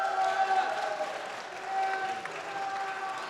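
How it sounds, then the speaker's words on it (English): A stage audience at a gaming expo during Comic Con Baltics applauds the second-place team, producing a moderate, continuous wash of clapping with some cheering, heard from a distance and with voices mixed in. "a round for applause for our second place."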